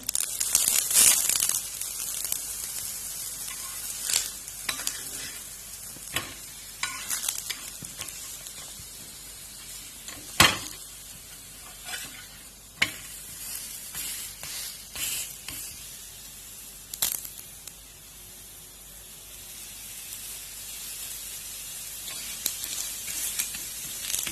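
Sweet jaggery roti fries in oil with a steady close sizzle, broken by scattered sharp crackles and pops throughout, with no talking.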